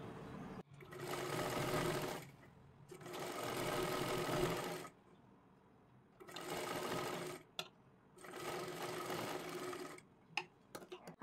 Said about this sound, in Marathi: इथे पूर्ण एकदम कडेला शिलाई मारून घ्यायची आहे